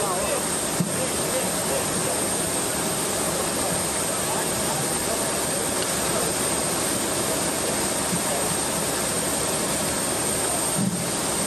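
A jet aircraft carrying repatriates from Gaza gives a steady, broad engine roar over the whole stretch, with a few faint knocks near the start and end.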